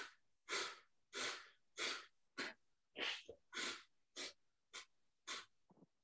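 Ten forceful, rhythmic nasal exhalations of Kapalbhati breathing during a yoga and pranayama session, short sharp puffs spaced about half a second apart, close and clear with brief quiet gaps between them.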